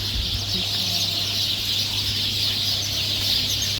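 Cartoon chicks chirp in a continuous, high, bright stream of peeping that stays even and fairly close, with no speech.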